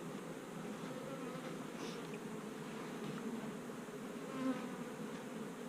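Honey bees drone in a dense, continuous buzz close by as a deep hive box is set carefully in place, the hum steady with slight swells.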